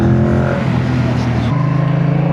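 A Yamaha MT-07 naked motorcycle's engine accelerates in third gear from around 3,000 RPM, a loud close droning growl that steps up in pitch partway, mixed with wind rush.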